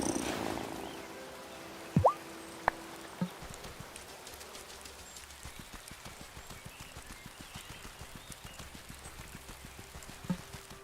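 A cat in the video game Wylde Flowers purrs in a soft, steady run of rhythmic pulses close by, after a few faint clicks and taps at the start.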